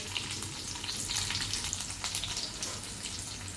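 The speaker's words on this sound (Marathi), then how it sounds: "आणि तेल तापलं की त्यानंतर ही एक एक भेंडी याच्यामध्ये ठेवायची." Whole okra pods frying in hot oil in a pan: a soft, even, crackling sizzle, close by and fairly quiet, with no voices.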